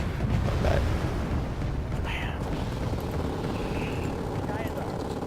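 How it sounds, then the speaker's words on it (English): Jet aircraft roaring overhead in the video game Wargame AirLand Battle, a dense, continuous low rumble with a few brief whooshes and high whines, steady and loud throughout, with voices faintly present underneath. "Man, so many planes in the air."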